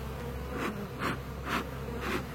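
Honey bees buzzing during a honey harvest, a steady close drone swelling in four regular pulses about half a second apart, with no talk.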